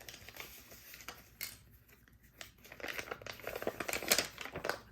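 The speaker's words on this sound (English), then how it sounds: "This is an old envelope." Crinkling and rustling of an old paper envelope being handled close up, with soft irregular crackles and taps that grow busier toward the end, no talking.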